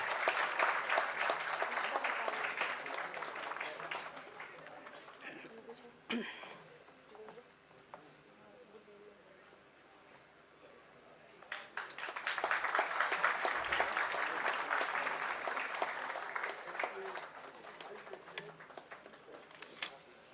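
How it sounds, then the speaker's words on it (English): Audience clapping at a tech fest ceremony, a sustained round of applause that dies down for several seconds and then swells again into a second long burst, fairly distant in a large hall. "A big round of applause, ladies and gentlemen."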